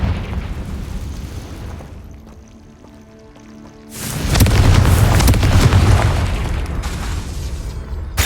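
A Confringo fire spell goes off in Hogwarts Legacy with a loud booming blast that swells and rumbles on for several seconds after a quieter, lower stretch.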